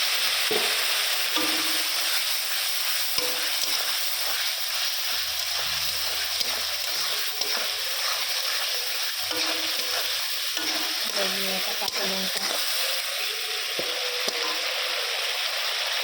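Ginger paste and green chili fry in a pan, a steady bright sizzle with occasional stirring scrapes; a voice speaks briefly over the cooking.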